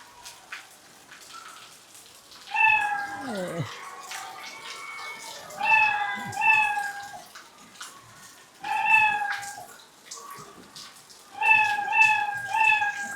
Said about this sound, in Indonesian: Ketik bendera, gerak 10 langkah, dia akan bersuara meong.